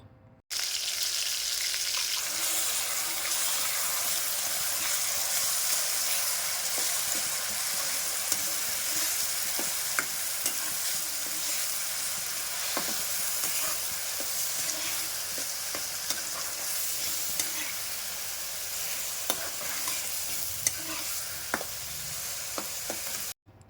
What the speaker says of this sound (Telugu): మనం గ్రైండ్ చేసి పెట్టుకున్న ఉల్లిపాయ పచ్చిమిర్చి పేస్ట్ని వేసి ఆయిల్లో లైట్గా ఫ్రై అవ్వనివ్వాలి